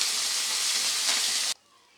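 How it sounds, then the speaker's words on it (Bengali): Tangra fish frying in hot oil gives a loud, dense sizzle with steady hiss that runs for about a second and a half, then cuts off abruptly to near quiet. "একইভাবে বাকি মাছগুলো আমি ভেজে নেব"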